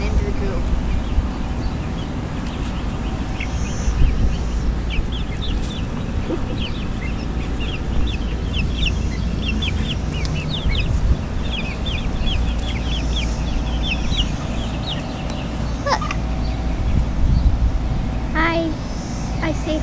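Several young hens kept indoors in a house, waiting to move to an outdoor coop, cluck and chirp in a steady scatter of small calls over a loud, constant background rumble.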